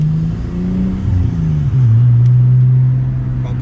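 A Nissan Skyline R34 GTT pulls around a roundabout, its engine rising in a loud, steady drone with a shifting pitch as it accelerates, then settling into a strong, even hum.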